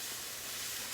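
Cold water poured into a hot pan of biscuits sets off a steady, bright hiss of steam that stays loud and even, rising slightly at the very end.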